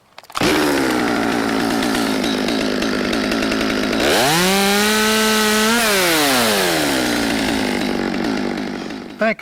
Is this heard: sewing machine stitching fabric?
no